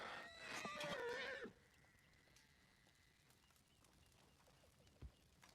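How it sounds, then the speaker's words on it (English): A horse in the video game Red Dead Redemption 2 gives a loud, shrill whinny lasting over a second, then quiet background with a soft thud. "The horse."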